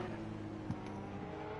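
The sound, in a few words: slow race car engine in Assetto Corsa Competizione video game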